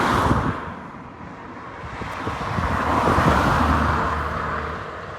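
A BMW Z3 convertible rolls in with a steady engine rumble and road noise, building slightly toward the middle and holding, with some wind buffeting the microphone and no talk.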